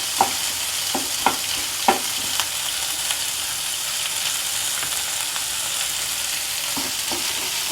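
Coarsely chopped garlic and onion fry in a pan with a steady, even sizzle, broken early on by a few sharp spatula taps and later by softer stirring knocks.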